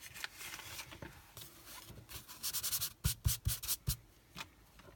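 An embossing buddy is rubbed over card stock with soft, close, faint brushing strokes that become a quicker run of louder rubs near the end.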